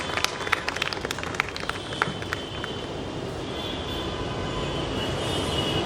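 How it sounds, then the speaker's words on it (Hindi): A large audience applauds loudly at a book launch event in Patna, welcoming Sujata Prasad. Dense, steady clapping from many hands, with a few sharper claps standing out near the start, and no talking over it. "एक जोरदार तालियों के साथ स्वागत करिए सुजाता प्रसाद"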